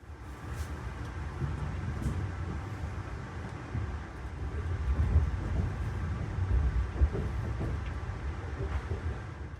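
Amtrak Pennsylvanian passenger train pulling into the historic Harrisburg train shed under electrification, a steady low rumble of wheels and car body heard from on board, continuous and fairly loud throughout with no talk.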